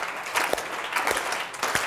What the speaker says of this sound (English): we're going to start by clapping our hands